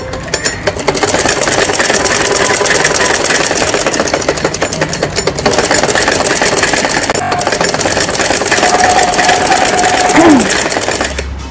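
A sewing machine runs in a steady fast rattling stitch, loud and close, sewing a children's night suit, with a brief pause partway through and a faint squeak near the end.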